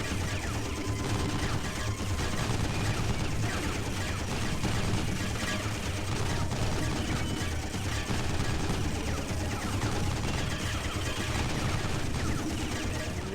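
Dense, continuous gunfire and rocket blasts in the shooter game Jets'n'Guns, a constant loud barrage of rapid shots and explosions layered over each other for the whole stretch, with no talking.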